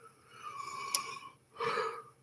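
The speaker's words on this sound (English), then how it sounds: "Had to yawn there for a sec." A person yawns during a casual livestream, a long drawn-out breath with a brief sharp click partway through, then a second breathy exhale, close and moderately loud with no speech.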